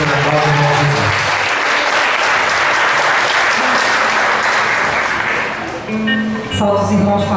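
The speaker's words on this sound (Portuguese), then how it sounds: "Vamos aplaudir o Senhor" A church congregation applauds in a long, loud, continuous roar of hands filling the room, fading near the end as a voice begins talking over it.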